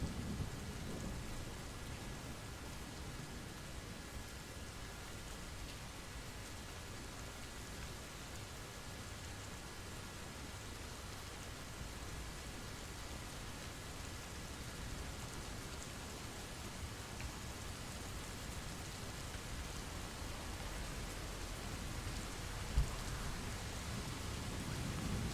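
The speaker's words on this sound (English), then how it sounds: "we're listening to the rain" Steady rain falls in a continuous, even hiss with a low rumble underneath, likely distant thunder, and a single brief tap near the end; no one speaks.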